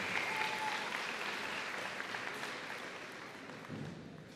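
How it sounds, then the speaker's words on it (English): Audience applause at a high school senior convocation, a steady, even wash of many hands clapping that sounds somewhat distant and quiet and tapers slowly over several seconds. "One more round of applause for Julia."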